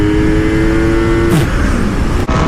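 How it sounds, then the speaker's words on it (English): A motorcycle engine revving hard at high pitch during a wheelie, a loud sustained whine that drops suddenly partway through, then continues as a rougher roar until a brief cut near the end. "you just pretty much want to rev out the bike as hard as it can go until it just slams down on its own"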